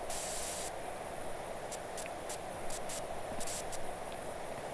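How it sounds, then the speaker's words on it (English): Pressure washer blasting water in the video game PowerWash Simulator 2, a continuous hissing spray that holds steady throughout, with a harder burst at the start and brief crackling spurts scattered along. "Let's see what we can spray off here."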